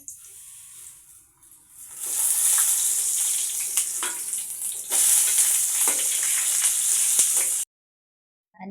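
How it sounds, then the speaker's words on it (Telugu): Loud, steady sizzling of colocasia leaf parcels frying in hot oil, with occasional crackles and pops, swelling louder partway through before stopping abruptly. "నూనె పోసి ఇవి ఫ్రై చేసుకోవాలి"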